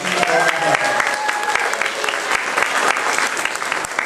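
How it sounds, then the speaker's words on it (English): An anime convention crowd at BAM-Con claps for game show contestants, a brief dense burst of applause with scattered voices mixed in. "Let's give them a round of applause"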